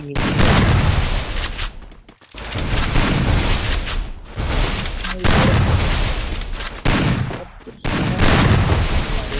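Gunfire in a mobile shooting game, loud dense bursts of shots and booms in four long volleys separated by brief pauses.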